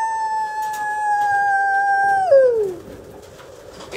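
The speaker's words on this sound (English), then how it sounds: "I love pigeons, guys." At a one-loft racing pigeon event, a sustained tonal call holds steady and then slides downward before fading into quiet outdoor background noise.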